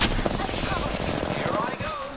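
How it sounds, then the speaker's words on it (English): Rapid automatic gunfire in the shooter game Apex Legends, a dense, continuous rattle of shots with overlapping bursts, loud and close, over game sound. "The enemies are shooting at me."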